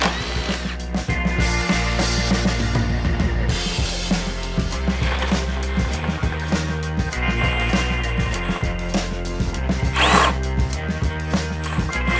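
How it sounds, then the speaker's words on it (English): A power tool on a Bronco Raptor build whirs and revs in repeated bursts as it removes bolts, close and loud over a constant hum, with no talking. "I'm gonna be removing these bolts here"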